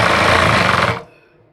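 A sewing machine stitches a salwar in one fast, loud, continuous run that stops abruptly after about a second, leaving faint room sound.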